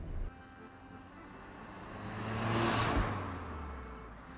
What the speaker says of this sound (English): how does the almighty 206 drive on the road?